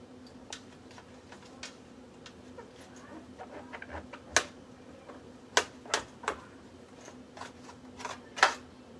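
Knife slicing across king oyster mushrooms on a board, giving a run of short, crisp cuts and taps at irregular intervals, a few sharper and louder, over a low steady hum.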